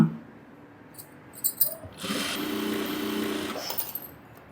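A sewing machine stitching a seam on a chudithar, with a short burst of running stitches after some light handling clicks and rustles, fairly close.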